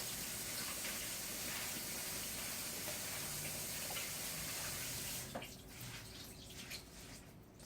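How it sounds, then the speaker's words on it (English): Coleslaw vegetables are rinsed under a kitchen tap: a steady, close rush of running water that stops abruptly near the end, leaving faint drips and handling sounds. "Just give it a quick rinse."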